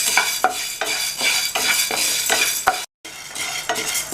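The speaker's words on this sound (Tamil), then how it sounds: "இதை இந்த பேனில் சேர்த்துட்டு நல்லா கை பொறுக்கிற சூடு வர வரைக்கும் வறுத்துக்கணும்." Toor dal dry-roasting in a pan on low heat, with repeated rhythmic stirring strokes and a dry rustling rattle of lentils against metal, close and clear, briefly interrupted by a moment of silence.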